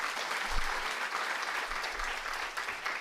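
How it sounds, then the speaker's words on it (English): A conference audience claps in a dense, steady round of applause that fills the room from start to finish, with no talking over it. "let's give a round of applause again."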